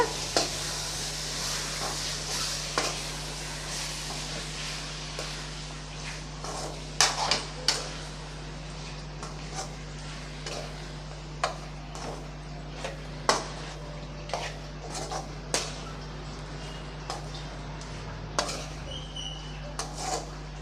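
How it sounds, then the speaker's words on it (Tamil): Chicken curry sautés with masala in a pan, a continuous close sizzle broken by frequent scraping and clinking of a spoon against the metal as the mixture is stirred. "இப்போ இது நல்லா ஒரு ரெண்டு நிமிஷத்துக்கு நல்லா வதக்கி விட்றலாம் மசாலாவோட"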